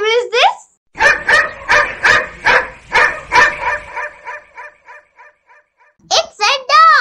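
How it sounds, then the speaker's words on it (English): A dog barks in a rapid run of about a dozen sharp, close barks that fade toward the end, framed by brief speech before and after. "It's a dog."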